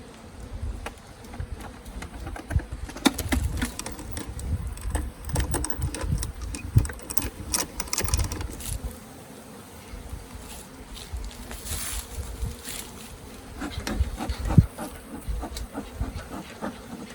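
Honeybees buzz continuously as a natural beehive is opened for a spring inspection. The hum is close and fluctuating, with scattered knocks and handling noises and no talking.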